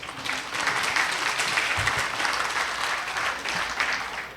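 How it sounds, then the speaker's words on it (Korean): Citizen participants at a public deliberation forum on a shopping mall proposal clap warmly, a thick, continuous burst of applause that stays loud and even before tapering slightly at the end. "정말 박수가 후하십니다"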